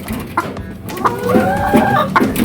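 Backyard hens clucking close by, several short overlapping calls and one drawn-out cackle over a couple of seconds, with no voices.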